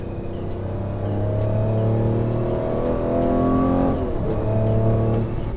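A Lamborghini V12 supercar engine, revving to 8,500 RPM, heard up close as a loud, continuous tonal howl that climbs in pitch, dips as it shifts, then rises again.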